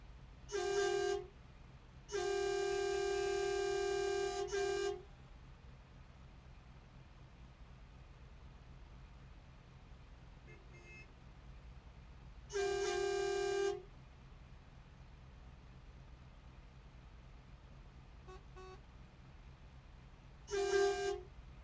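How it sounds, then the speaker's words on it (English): A car horn honks in separate blasts during a road trip drive to Colorado: a short toot, a long sustained blare of about three seconds, another one-second honk and a brief final tap, all loud over steady road rumble. "You know what? I feel like honking too."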